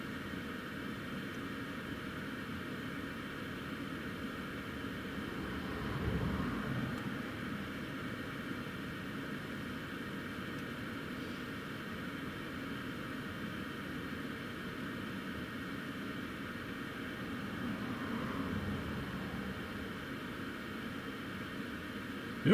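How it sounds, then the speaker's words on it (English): An Emirates Boeing 777 landing on runway 25 at Newcastle International Airport in a storm crosswind. A faint, steady, distant jet roar blends with broadband wind noise and swells slightly twice. "here comes the Emirates 777"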